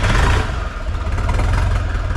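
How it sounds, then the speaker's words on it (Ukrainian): A loud four-cylinder Skaut 504 TE tractor engine runs steadily close by, with a constant throbbing rumble and no pauses. "Приємний звук 4-циліндрового двигуна."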